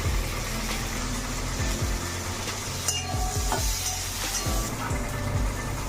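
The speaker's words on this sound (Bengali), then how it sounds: "আলুটাকে একটু করে ভেজে নিচ্ছি" Potato pieces frying in oil in a pan give a steady sizzle throughout, punctuated by several scraping, clattering strokes of a spoon stirring them.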